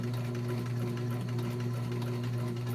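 A SewMor 606 sewing machine runs steadily up close, its motor humming with a rapid, even needle chatter that continues without pause.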